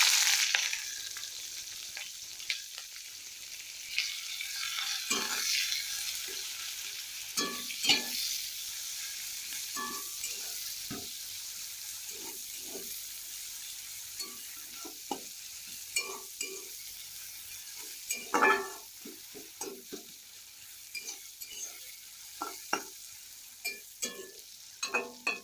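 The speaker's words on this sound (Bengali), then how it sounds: "আমি কুচি করে রাখা পেঁয়াজগুলো তেলের মধ্যে দিয়ে ভেজে নেব" Chopped onions sizzle steadily in hot oil in a wok, with a constant frying hiss and intermittent scraping clicks from stirring.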